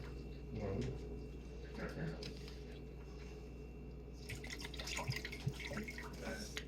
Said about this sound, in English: I'm going to put some more water in here.